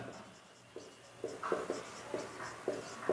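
Pen or marker writing out a step of a Class 10 maths solution on real numbers, a series of short scratchy strokes with brief pauses between them, close and fairly quiet with no talking.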